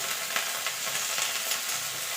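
Spices with ginger, garlic, cumin and chilli fry in hot oil for a fish curry, a close, continuous bright sizzle with soft stirring bursts and no talking.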